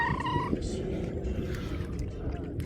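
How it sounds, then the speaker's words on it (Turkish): Cats meow briefly at the start, a short high call over a steady low background rumble at Killik Cove on Turkey's Aegean coast, then only faint ambient noise remains. "buralarda bir sürü kedi var"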